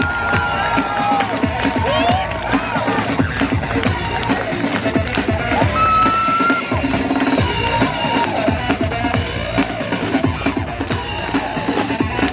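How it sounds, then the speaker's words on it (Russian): An outdoor crowd cheers and applauds a performer named Konstantin after his trick, with loud, continuous whoops and shouts mixed with music and voices for the whole stretch. "Стоя, сделайте аплодисменты Константину."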